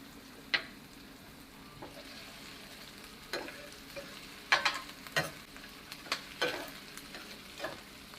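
Onions, garlic and pimentos fry in a pot for Jamaican curry fish, a soft steady sizzle broken by scattered spoon scrapes and taps against the pot.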